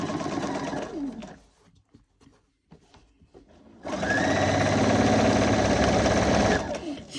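A domestic sewing machine stitching quilt-as-you-go blocks, running in a short burst, pausing for a couple of seconds, then whirring steadily again at close range with a rapid mechanical buzz; no speech over it.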